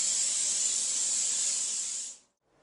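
Cooking spray hisses in one steady, close burst as it coats a silicone pan, lasting about two seconds before cutting off abruptly into silence.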